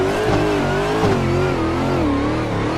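Car engine in the Assetto Corsa racing game, revving hard and wavering in pitch during a clutch-kick drift, loud and close throughout with no talking.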